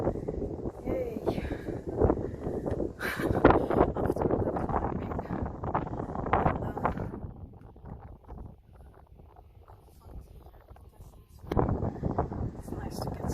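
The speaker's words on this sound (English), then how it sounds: "Suddenly now it's a bit windy." Wind gusting across the top of the cathedral tower in Cadiz, a broad, rough rumble buffeting the microphone; loud at first with a voice over it, easing to a quieter hiss midway, then gusting up again near the end.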